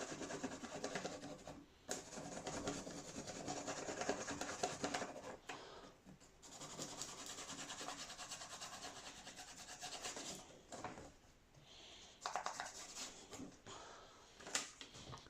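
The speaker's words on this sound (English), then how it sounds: "You could apply some tape there and then do a sort of brass rubbing" Brass rubbing on a paper template for front glazing, a pencil or crayon scratching back and forth across paper in steady close rubbing strokes with brief pauses, no talk.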